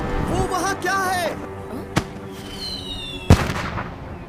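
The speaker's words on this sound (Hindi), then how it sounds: "अब पटाखों से खेलना बंद करोगे?" Firecrackers go off in a few sharp, loud bangs spaced apart, one early and a stronger one later, with a whistling rise in between and voices talking over much of it.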